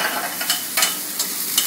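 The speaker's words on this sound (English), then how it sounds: "I'll let the onions just carry on cooking along there" Onions fry in a pan beside a resting steak, a steady close sizzle broken by a few soft stirring scrapes and light clicks of the utensil.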